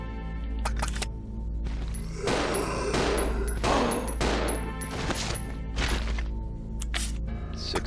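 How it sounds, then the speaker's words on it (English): A string of loud gunshots from the Resident Evil 0 game, fired in several sharp bursts over a steady background hum and game music, with brief pauses between volleys. "Six more shots."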